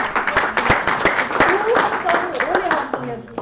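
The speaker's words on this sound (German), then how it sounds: "Wieder mal bitte Applaus" Audience applause at a university training session, a steady patter of claps running throughout with voices talking over it.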